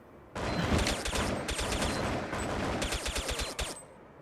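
Rapid, heavy-recoil gunfire from an Xbox video game crackles in dense automatic bursts for about four seconds, loud and close, with short gaps between strings of shots.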